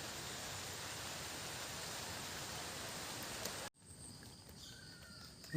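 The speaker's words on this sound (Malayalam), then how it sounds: "മഴ പെയ്യാൻ തുടങ്ങി" Steady broadband hiss of rain falling during a rural snakehead fishing outing, loud and continuous for most of the clip before cutting to a quieter outdoor scene with faint ambience.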